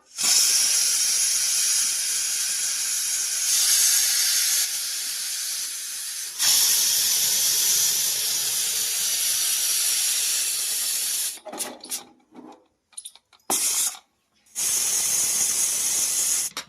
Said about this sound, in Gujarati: કુકરમાં ચડવા મૂકી દઈશું ગેસ ઉપર